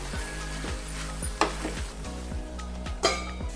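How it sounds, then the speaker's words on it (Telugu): Tomato pickle with tamarind sizzles softly in a pan under a steady low hum, while a spoon stirs it with a couple of sharp scrapes against the pan. "ఇప్పుడు మనం ఇందులోకి చింతపండును వేసుకొని ఒకసారి మిక్స్ చేసుకొని"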